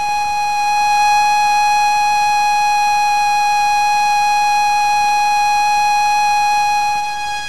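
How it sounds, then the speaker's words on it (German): Steady synthetic square and sawtooth wave tones sounding together as one loud, unbroken buzzing note rich in harmonics, holding constant pitch throughout with no other sounds. "zum Beispiel Rechteckwellen und Sägezahnwellen. Es ist interessant, dass sie anders klingen als die Töne"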